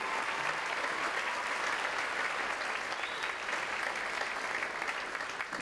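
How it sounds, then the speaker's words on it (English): Children's dance workshop audience gives a dancer a round of applause, dense sustained clapping that fills the room evenly for several seconds without talk. "give him a round of applause"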